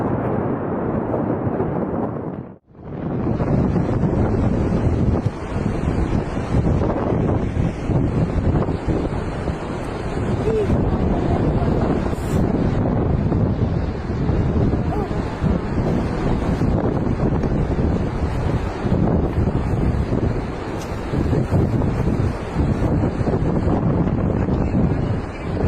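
Huge ocean waves at Nazaré, Portugal, heard as a loud, continuous roar of surf mixed with heavy wind buffeting against the microphone.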